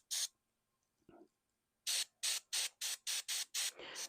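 An airbrush sprays metallic paint onto Warhammer Ultramarines miniatures in short hissing bursts. One burst comes first, then a quick run of about seven evenly spaced puffs, close and crisp in a quiet room.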